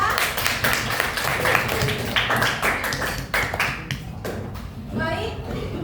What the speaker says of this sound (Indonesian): tepuk tangan buat Reva